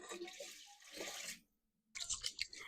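Warm to hot water pours into a mixing bowl for potato flake sourdough bread dough, a steady splashing stream that stops briefly and then resumes in a second short burst.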